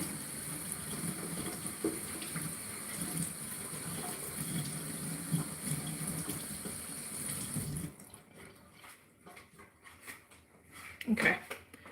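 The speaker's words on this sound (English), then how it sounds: "I'm just gonna wash this again because I feel like, yeah, it needs to be washed again." Running tap water gushes steadily into a sink while food is rinsed under it, a continuous broadband wash that cuts off abruptly near the end, leaving quieter handling noises and a brief splash.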